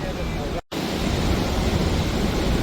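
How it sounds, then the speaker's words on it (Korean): Bridal Veil Falls at Niagara Falls gives a steady, close, broadband rushing roar of falling water, broken only by a brief dropout near the start. "여기가 브라이드베이 폭포인가봐요"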